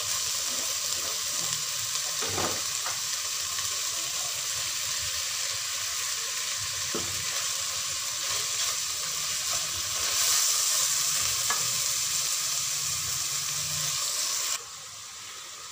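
Vegetables fry with chicken for red sauce pasta, a constant close sizzle with occasional stirring knocks, rising briefly louder before dropping off near the end.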